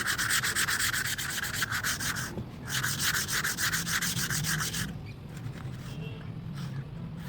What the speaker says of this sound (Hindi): इस तरीके से इसको दबा के रेगमाल लगा देना है पूरी लकड़ी के ऊपर।